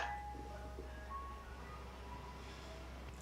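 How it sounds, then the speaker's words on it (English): An ice cream truck passes by outside on a weekend, its faint chiming melody drifting under a steady low rumble, distant and quiet throughout with no talking. "Ice cream truck is passing and all of that stuff."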